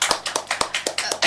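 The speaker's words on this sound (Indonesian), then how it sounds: "Tepuk tangan dong" A small podcast audience clapping, a brief run of separate sharp hand claps in an uneven rhythm, close and fairly loud, with no voices.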